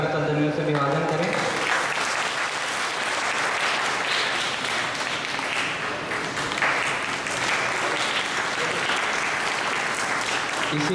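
Loud, sustained applause from a ceremony audience, the clapping continuous and dense from start to finish, with no break.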